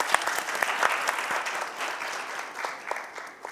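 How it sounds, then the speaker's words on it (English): At a youth entrepreneurship conference, an audience bursts into sustained applause for a panel, a thick, bright crackle of clapping that stays strong and close before easing slightly. "let's give them a round of applause"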